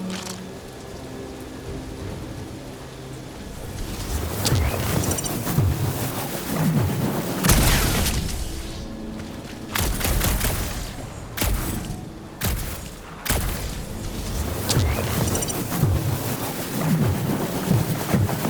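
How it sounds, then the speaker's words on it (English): A storm rages in Guardians of the Galaxy, with heavy rain hissing steadily and several loud, close thunder cracks and rumbles breaking through in bursts. "Perhaps the storm will have abated."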